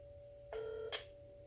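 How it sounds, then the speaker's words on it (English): A work telephone line rings through a phone speaker, a single faint electronic ring tone lasting about half a second over quiet background hiss, ending with a short click. "Call his work phone."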